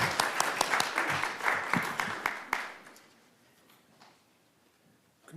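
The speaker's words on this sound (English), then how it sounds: "Another round of applause for all of our honorees tonight." A small audience at a public board meeting applauds its honorees with scattered, fairly close hand claps for a few seconds, then the clapping thins out and the room falls nearly quiet.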